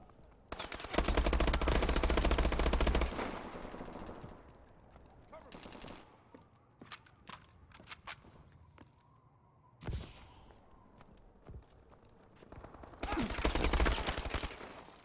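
Rapid automatic gunfire in the video game Call of Duty: Advanced Warfare multiplayer comes in two loud sustained bursts with scattered single shots and impacts between them, dense and close.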